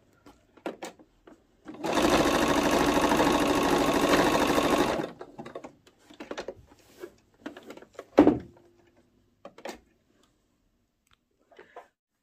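A sewing machine stitches lace onto the edge of a towel in one loud, steady whirring run of about three seconds, followed by scattered quiet clicks, handling noises and a sharper knock.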